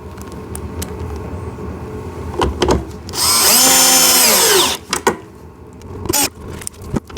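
A power drill drives screws into the plastic body of a two-seater 24V kids' ride-on car, whining loudly for a second or two, with clicks and handling knocks from the parts before and after.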